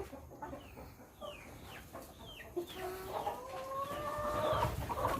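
Laying hens cluck and chirp in a rural farm setting, with short repeated calls that are faint at first and then grow denser and louder as the birds become more active.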